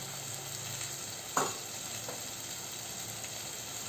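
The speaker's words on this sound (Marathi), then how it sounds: "आणि आता हा छान परतून घेऊया" Homemade onion masala and red chilli powder sauté in a pan for spicy street-style usal, giving a steady soft sizzle with one sharp utensil clink partway through and no talking.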